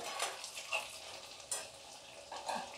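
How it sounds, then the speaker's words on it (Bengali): Two vegetarian fish cutlets fry together in oil in a pan over low heat, a faint soft sizzle with occasional brief crackles. "এই তেল যা দিয়েছি 2টো মাছ একসঙ্গে ভাজা হবে"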